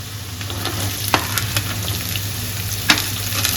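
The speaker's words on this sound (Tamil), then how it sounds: "பூண்டு நல்லா வதங்கணுன்னு பாருங்க, இந்த அளவுக்கு பூண்டு வதங்கணுங்க." Garlic sautés in a pan with a loud, continuous sizzle and scattered sharp crackles and pops, close up with no voices.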